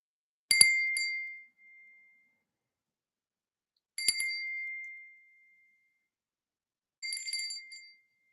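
A bright bell is struck three times, each ding ringing clearly and decaying in silence before the next.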